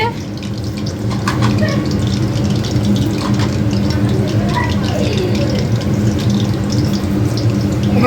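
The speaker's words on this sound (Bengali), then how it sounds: "রুম্পা হচ্ছে খাসির মাংসটা ধুয়ে দিল" Tap water gushes steadily and loudly into a sink while mutton is rinsed, a continuous close rushing stream with faint clatter on top.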